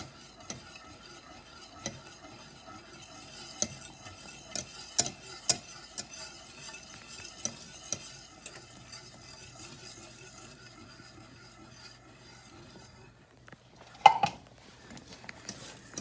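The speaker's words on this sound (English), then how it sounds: "stirring constantly to make sure that it doesn't stick to the bottom and form lumps" A spoon stirs a thickening mixture in a pot on the stove during the making of Hungarian roasted chicken, giving a steady, close scraping and swishing with soft sizzling beneath and a brief clink near the end.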